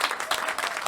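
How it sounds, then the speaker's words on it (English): Applause from an audience at an improv comedy show, a short burst of brisk, fairly close clapping. "Give yourselves a round of applause."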